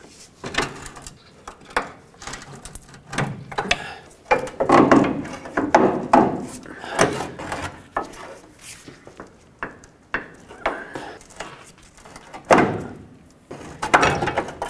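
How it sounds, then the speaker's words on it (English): A pry bar works a front upper control arm out of a 1997-2003 Ford F-150, giving irregular metallic knocks, scrapes and clunks in uneven bursts, close and fairly loud. "Now you can slide your control arm out. I need a pry bar."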